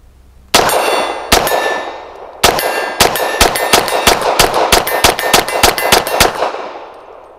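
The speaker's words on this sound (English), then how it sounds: "Let's see how this runs full mag plus one with some PPU 93 grain." Grand Power LP9M 9mm pistol emptying a full magazine of PPU 93-grain brass-case rounds, about fourteen sharp, loud close shots, starting with two spaced shots and then a quick steady string, each ringing with a metallic clang.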